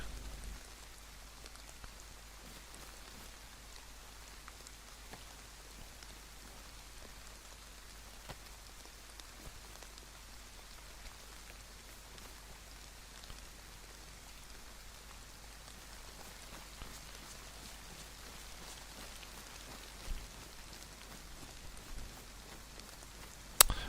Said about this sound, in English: Oh, it's too wet, isn't it, with this bloody rain?